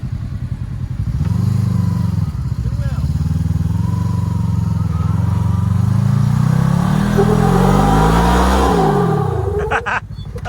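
An off-road vehicle's engine revs hard on a Moab slickrock trail in two-wheel drive, a steady loud drone climbing in pitch and then dropping back, with voices audible over it.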